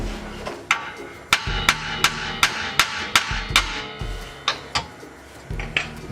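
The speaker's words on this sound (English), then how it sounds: "Reverting to the hammer." Repeated hammer blows strike the rear lower forward arm of a Lexus LS460L, knocking it loose. About a dozen sharp metallic bangs come in an irregular rhythm, loud and close, with ringing between strikes.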